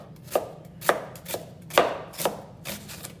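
A knife chops vegetables for curtido into bite-sized pieces, giving six crisp, close thuds on a board about half a second apart, with a soft hiss between strokes and no talking.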